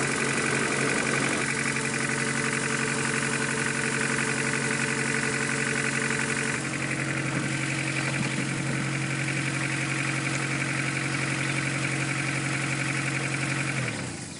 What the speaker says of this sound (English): The first startup could take a little while because you have to fill the fuel rail back up.